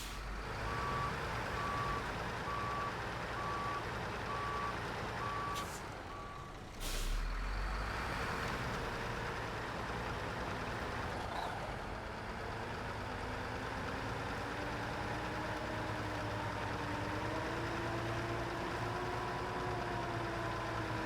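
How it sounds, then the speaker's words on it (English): A truck is repositioned, its engine running steadily throughout with a hiss of air brakes partway through and a reversing beep sounding in the early seconds. "Now I gotta move this truck out of the way."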